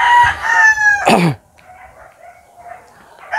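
A gamecock at a Philippine poultry farm gives one loud, close crow that falls away at the end, followed by faint background clucking and yard noise.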